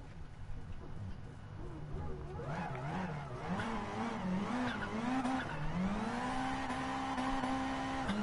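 A car in Gran Turismo Sport drifts with a wavering engine drone rising and falling, then settling into a steady high tone, with squealing tires, low in level.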